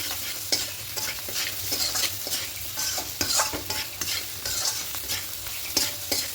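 Lentil khichuri being stirred in a frying pan, a steady sizzle with scraping spoon strokes at a quick, uneven rhythm, close and moderately loud with no talk.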